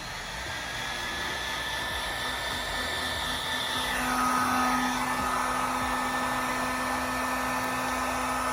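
A heat gun blows a steady, loud rushing whoosh while warming vinyl wrap around the corners of a Jeep Wrangler, its tone shifting slightly midway as it moves, continuous with no talk.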